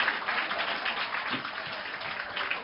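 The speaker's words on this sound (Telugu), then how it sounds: "గట్టిగా చప్పట్లు కొట్టి అభినందించండి." An audience claps together at a public gathering, a steady, dense patter of many hands that stays fairly even for about three seconds with no voices.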